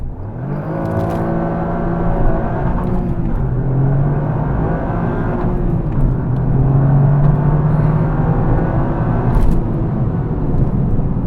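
A Toyota GR Yaris accelerates hard from inside the cabin, its engine droning loud and close, rising in pitch through the gears with brief dips at the shifts.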